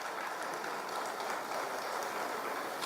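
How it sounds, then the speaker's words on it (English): Dense, steady applause from an audience at the Frosty Festival Pedestrian Parade of Lights in Mount Pearl, a continuous crackle of many hands clapping at even loudness throughout, with no voices. "that deserves certainly a round of applause"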